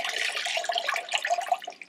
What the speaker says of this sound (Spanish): Lo colocas en tu agua limpia.